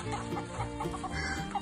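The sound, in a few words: chickens clucking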